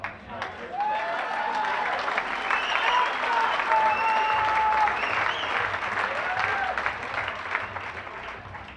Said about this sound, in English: Why don't we applaud heartily